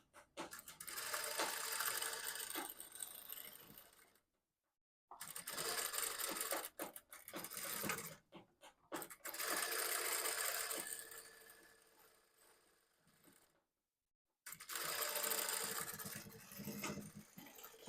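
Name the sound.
sewing machine stitching a blouse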